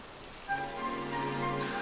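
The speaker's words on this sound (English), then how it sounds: "It's raining too." Rain falls in the video game Dragon Quest XI, a soft continuous hiss of drops under a sustained tonal background, fairly quiet and steady.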